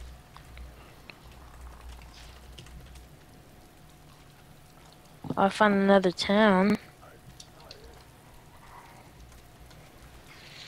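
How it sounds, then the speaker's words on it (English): Steady rain falling in the survival video game DayZ, a soft constant patter running beneath the whole stretch while someone speaks briefly in the middle. "It's raining over here."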